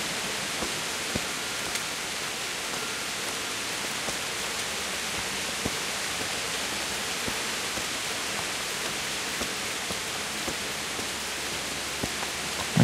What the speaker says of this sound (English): it really does rain a lot here in the north